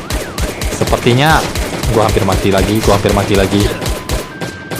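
Rapid AK-47 bursts in the survival game Last Day On Earth crack out in quick repeated shots, mixed with game sound effects and someone talking over them.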